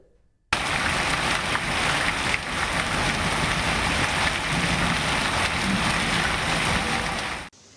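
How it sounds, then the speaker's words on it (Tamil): Steady, loud, dense rain pours down with gusting wind in Chennai, a continuous even roar that starts abruptly and holds for several seconds with no voices. "மாலை நேரத்தில் சட்டென்று வானிலை மாறி காற்றுடன் மழை பெய்தது"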